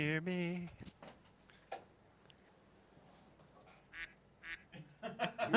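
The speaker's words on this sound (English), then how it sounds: "Quack, quack, indeed." A single loud, nasal duck quack sounds at the start during a sim racing dev night, followed by scattered speech and clicks through the rest.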